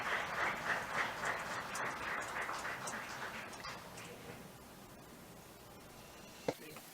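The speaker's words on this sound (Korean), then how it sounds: "저희 그 연사님과 그리고 패널리스트 분들께 박수 부탁드립니다" An audience at a forum on democracy applauds the speakers and panelists, a soft, distant patter of many hands that gradually thins out and fades over several seconds.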